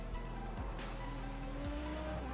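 A Super Formula race car in the iRacing simulator at Suzuka, its engine droning loudly and steadily with quick gear shifts and faint tire squeal, no voices.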